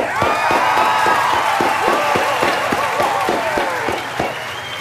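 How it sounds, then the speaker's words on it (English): An audience breaks into loud applause and cheering, with sharp rhythmic claps, whoops and crowd shouts filling several seconds close up before tapering slightly. "Let's clap it up."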